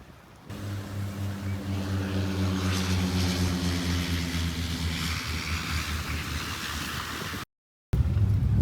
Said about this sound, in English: there's a plane landing.